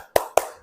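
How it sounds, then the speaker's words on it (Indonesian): Two sharp hand claps about a fifth of a second apart, close and crisp, open a rhythmic tepuk semangat clapping routine in a classroom. "nanti contohnya seperti ini untuk tepuk semangat, nanti kalian ikuti ya"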